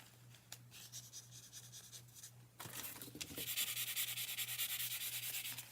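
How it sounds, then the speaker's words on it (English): A tool scrapes and rubs into a gel printing plate to add texture, soft scratchy strokes at first, then a louder, denser rasping run of repeated rubs close by. "I was just trying to scrape down into it"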